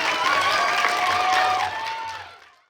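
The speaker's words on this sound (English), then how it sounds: "Clap your hands for yourself." An audience at a children's book reading claps together for a couple of seconds, with voices blended in, before the applause fades away.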